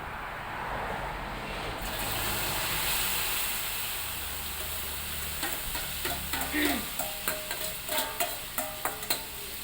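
A Thai cha-om (acacia shoot) omelette sizzles loudly in a hot pan, a steady hiss with scraping and tapping of a utensil stirring in the second half.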